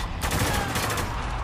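Rapid automatic gunfire from Spec Ops: The Line, a desert military shooter, rattles steadily and loud at close range, with faint voices underneath.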